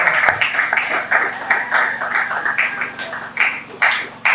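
People clap for the organizer at an entertainment company press conference and launch, a close, uneven burst of hand claps with louder individual smacks, over a low background hum.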